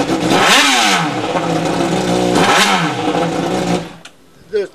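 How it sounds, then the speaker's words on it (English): A sport motorcycle engine revving hard to about 10,000 RPM at a bike rally, two sharp throttle blips rising and falling in quick succession, loud and close, then a short quieter idle with a final small blip. "The throttle response on bikes like this is amazing."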